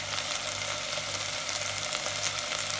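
Ground spices (salt, cumin, coriander, red chili powder and turmeric) fry in a pan for Egyptian koshari, giving a steady, dense sizzle over a low constant hum, with no voices.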